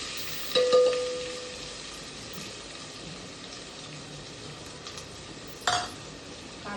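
Onion frying in a generous amount of oil for pav bhaji gives a steady, close sizzle throughout, with a couple of brief utensil clinks against the pan near the start and near the end.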